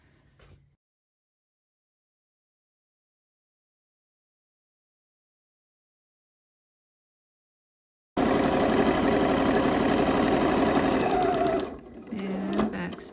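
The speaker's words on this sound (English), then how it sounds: "we have successfully stitched our hem into place" A sewing machine stitching a hem on a Simplicity 3003 mock neck bell sleeve top at a 3.5 stitch length runs loud and steady for several seconds, then shifts pitch briefly near the end, after a long silence.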